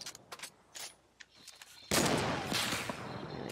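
Heavy sniper rifle fire in a multiplayer shooter game, a few scattered sharp cracks followed by a sudden loud, sustained roar of gunfire and impacts, with no talking heard.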